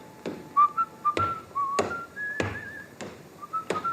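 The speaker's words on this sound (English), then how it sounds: "that fella there, whistling" A person whistles a wandering tune of sustained notes and slides, with sharp knocks or thumps at intervals underneath, fairly close.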